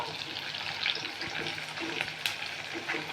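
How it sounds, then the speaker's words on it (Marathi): Homemade Ayurvedic herbal hair oil with hibiscus flowers and leaves boils in a pan, giving a steady, soft bubbling sizzle with scattered small pops and crackles throughout. "चांगले सात आठ मिनटं आपल्याला तेल छान उकळून घ्यायचे"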